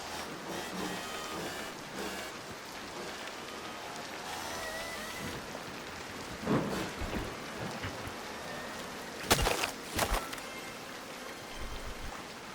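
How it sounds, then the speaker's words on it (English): Steady rain falls in the video game Scrap Mechanic, a soft continuous patter with a few louder gusts or rumbles partway through and no speech. "Oh, after a hot day, this rain must feel nice."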